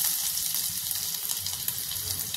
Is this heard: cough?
no